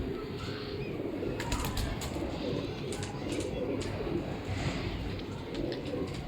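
Pigeons coo in a dense, continuous chorus nearby, soft throaty murmurs overlapping with no pauses, along with a few faint higher clicks.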